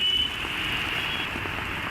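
Heavy rain in Navi Mumbai pours down as a steady, even hiss that holds without pause, with a faint thin tone riding above it.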